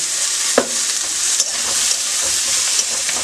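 Peas, tomato and salt for shahi paneer are stir-fried in a hot pan, giving a steady close sizzle with a few scraping stirs of the spatula and no talk.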